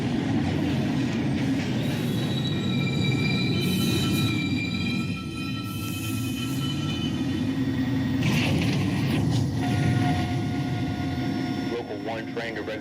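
An NYC Subway R62 train rumbles loudly nearby, with a steady low roar, rising metallic whines and brief squeals as it rolls into the station.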